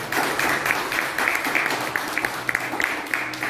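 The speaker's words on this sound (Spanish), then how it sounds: "¿Cuántos pueden aplaudir al Señor en esta mañana?" A church congregation applauds during a Sunday morning Spanish-language sermon, a fairly loud, steady crowd clapping with some sharper individual claps standing out toward the end.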